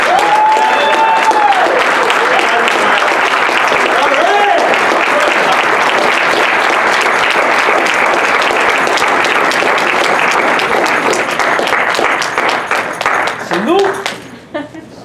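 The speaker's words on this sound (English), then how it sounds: "Please give my brother a warm round of applause, Brother Bakari Lumumba" A banquet audience at a Saviours Day award event gives a warm round of applause for Brother Bakari Lumumba, loud sustained clapping that thins out near the end, with brief voices and shouts at the start and close.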